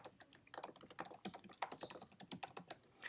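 Rapid keystrokes on a computer keyboard while entering a username and password into a PHP form, a steady run of close, crisp clicks with no talking.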